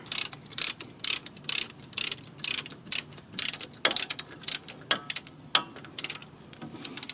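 Brake caliper piston being pressed back on a 2017 Ford Transit 150 during a front brake pad change, giving a close series of sharp mechanical clicks and ratchet-like ticks in an irregular rhythm.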